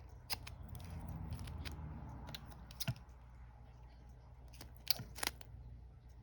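Paper and cardboard being cut for a junk journal: a few crisp snips and clicks over a low steady hum, close and quiet, with a short run of sharper cuts toward the end and no speech.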